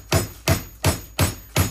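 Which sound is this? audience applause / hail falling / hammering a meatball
hammering a meatball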